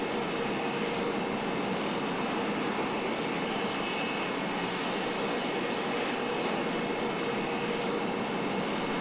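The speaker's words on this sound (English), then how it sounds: "Single very, very powerful, very noisy engine." The single engine of an F-86 Sabre jet fighter in Flight Simulator X roars continuously, a steady loud rushing drone with a faint high whine, sustained for the whole stretch with no voices.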